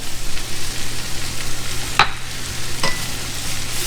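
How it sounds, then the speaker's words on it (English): Flour roux cooking in beef fat in a pan, with a steady close sizzle and two brief scraping stirs. "And just cook it a little bit in the fat, the beef fat."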